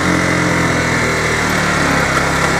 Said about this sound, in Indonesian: Kalau kalian mau ganti gear lagi, tekan tuas kopling